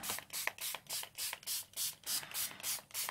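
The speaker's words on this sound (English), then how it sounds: "I tend to go with the spray more than I do anything." Bursts of aerosol spray paint in light pink hiss onto handmade paper for butterfly embellishments, about eleven short rhythmic puffs in quick succession, close and fairly soft, with no talking.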